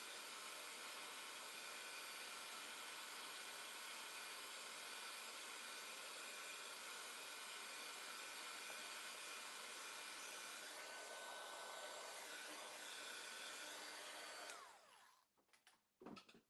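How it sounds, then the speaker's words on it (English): A heat tool blows hot air steadily to dry a craft mask, a loud continuous whooshing hiss that holds for about fourteen seconds before cutting off abruptly, followed by a few faint handling noises. "Somebody unplugged my heat tool."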